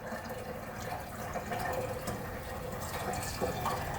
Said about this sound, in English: So now we'll take our bucket of hot water and fill this up